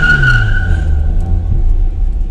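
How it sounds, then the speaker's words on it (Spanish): A car's tires squeal loudly under a heavy engine roar as the car pulls away on an uphill start with the accelerator pressed too hard. "Lo único que hizo fue chirriar las llantas, pero en realidad el carro no arrancó muy rápido"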